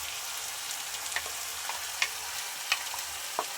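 Chicken cooking with yogurt in a pan for black pepper chicken, giving a soft steady sizzle with a few sharp scrapes and clinks as it is stirred. No one talks.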